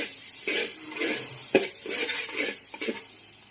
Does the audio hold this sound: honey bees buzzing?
no